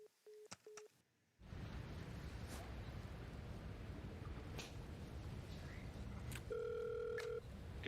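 A phone ringing in a comedy sketch: a short tonal ring burst opens, then broadband noise fills the rest, with a steady electronic tone returning near the end.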